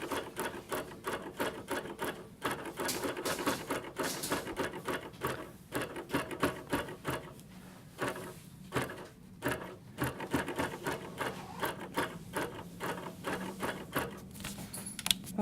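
A longarm quilting machine on its frame bastes a quilt with bursts of rapid mechanical ticking and stitching, separated by brief pauses, close and fairly quiet.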